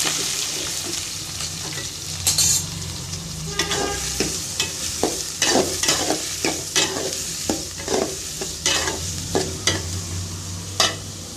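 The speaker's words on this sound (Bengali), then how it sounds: "পেঁয়াজটা ভালো করে ভাজা হয়ে গেছে" Onions, green chilies and tomato fry in hot oil for a Bengali rohu fish curry, a steady close sizzle broken by repeated scraping stirs of a spatula against the pan, with no talking.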